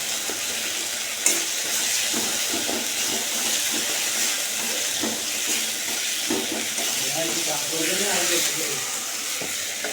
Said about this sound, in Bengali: এখানে চচ্চড়ি মশলাটা কষানো হচ্ছে